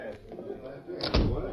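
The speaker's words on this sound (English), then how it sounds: "I'll shut the door" An office door shuts with a single solid thud in a radio drama scene, with a brief latch click just before the impact and quiet room tone around it.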